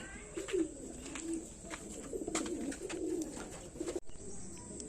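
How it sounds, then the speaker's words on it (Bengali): Domestic pigeons coo close by, soft low rolling calls repeating in overlapping bursts over a faint constant background hum, with no talking. "এগুলো তোমার দাদার বাড়ি সেটিং করা পায়রা"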